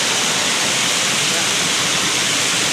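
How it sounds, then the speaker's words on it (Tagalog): Strong rushing water from a stream in a rainy forest roars steadily and loudly, a dense unbroken wash of noise close to the listener. "lakas ng tubig mga paps"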